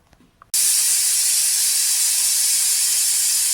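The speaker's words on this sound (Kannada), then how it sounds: "ವಿಷಲ್ ಆಗಿದೆ ಆವಿ ಬಿಟ್ಟಿದೆ ಓಪನ್ ಮಾಡೋಣ" A pressure cooker cooking tomato rice on a low flame suddenly bursts into a loud, steady hiss of escaping steam that continues unbroken after a quiet start.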